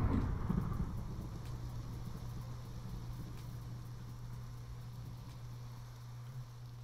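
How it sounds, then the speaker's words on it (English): Rain falls in Minecraft as a soft continuous hiss under a low steady hum, fairly faint and even, with a slightly louder patter at the very start and no talk. "Is that why it keeps raining?"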